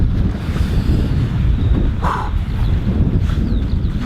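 Steady low rumbling wind buffeting the microphone, loud and continuous throughout, with no speech.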